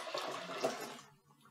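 Water gushes into a home brewing kettle on a beer brew day, a close, steady splashing rush that stops abruptly after about a second, with no voices.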